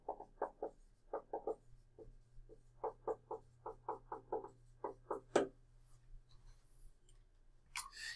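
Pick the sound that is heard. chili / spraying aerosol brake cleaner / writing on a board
writing on a board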